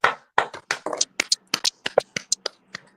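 A run of sharp hand claps, quick and slightly uneven in rhythm, about a dozen and a half in a few seconds.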